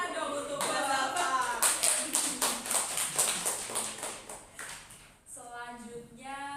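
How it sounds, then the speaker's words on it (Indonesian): A small group gives a round of applause for Mbak Zalfa during a group counselling session in a classroom-like setting, with rhythmic hand claps running for several seconds before a voice returns near the end. "Tepuk tangan dong untuk Mbak Zalfa"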